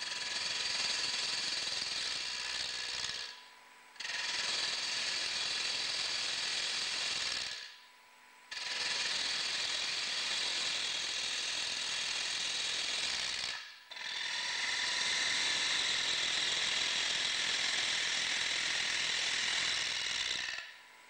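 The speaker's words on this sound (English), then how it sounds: "Then turn the back or base of the bowl to the required shape." Lathe turning the base of a multi-sided wooden bowl: a loud, rough, continuous scraping hiss that runs in three long stretches, separated by brief pauses.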